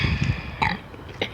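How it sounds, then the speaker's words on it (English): A single close, loud burp after drinking 7-Eleven Diet Coke, rough and voiced, with a couple of shorter gulping bursts trailing after it. "I gotta burp."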